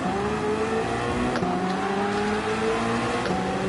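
Grid of Gr.2 race cars launching from a standing start in Gran Turismo 7, loud layered engine roar with rising revs and gear changes, steady and close throughout with no talk.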